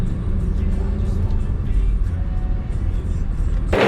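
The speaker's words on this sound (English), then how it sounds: "I'm just waiting for this traffic to go" Road traffic streams past a roadside spot near a Ritz, a loud continuous rumble of cars rolling by close, ending with a sharp burst at the very end.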